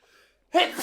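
A single loud, close sneeze bursts out after a short quiet moment, sharp at its start and then trailing off briefly.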